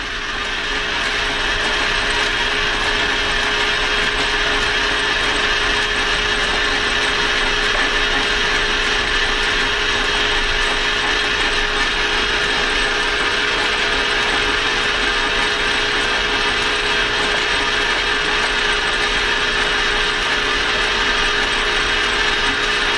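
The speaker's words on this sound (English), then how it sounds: "I switched over to my little lathe that holds these little things a little better." A small lathe facing a part for an Angel A4 Ram rebuild runs with a steady, loud mechanical whir and ratcheting gear noise that holds evenly throughout, with no talking.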